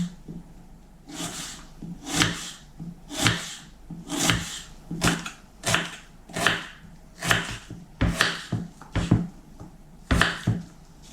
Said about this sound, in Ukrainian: Дві цибулі нарізаю напівкільцями.